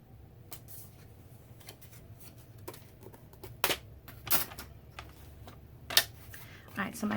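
Cardstock trimmed again on a paper cutter to fix an angled edge, a series of sharp, isolated clicks and quick slicing swipes, spaced irregularly, close and fairly loud against a quiet background.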